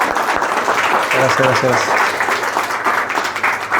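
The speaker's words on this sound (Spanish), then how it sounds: "Y un aplauso." Audience at a talk on the Dragon Ball anime creative process applauds in a steady wash of clapping, with a voice speaking over it.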